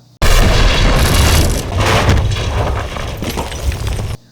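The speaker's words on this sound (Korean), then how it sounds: "12시 42분 탁자 밑에 있던 시한폭탄이 터집니다." A time bomb goes off under a table in the film Valkyrie, one loud sudden blast that roars on with crashing debris and a long rumbling tail.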